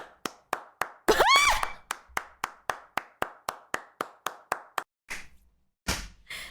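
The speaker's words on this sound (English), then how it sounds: "This is called one person clapping" A lone pair of hands claps at an even, brisk pace, joined early by a short swooping tone, with a few louder claps trailing at the end.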